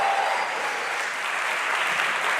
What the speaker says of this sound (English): please make some noise for the wonderful Candice Francis!